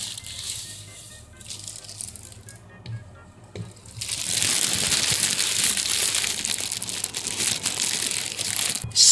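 Packaging for a Ulanzi U-Pad II iPad mount being handled and opened, with quiet rustling at first, then a louder, steady stretch of crinkling, crushing and rattling packaging material up close.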